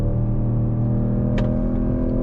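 A 2026 Mercedes-AMG CLE 53 coupe with a 449 PS engine and speed shift transmission drones at a steady, loud, close level while driving, with no voices over it.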